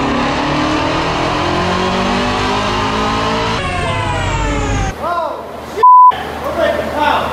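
A twin-turbo Shelby GT350R Mustang engine roars on a dyno, climbing steadily in pitch through a long loud pull, then cutting off abruptly before a sharp electronic beep and a few shorter revs.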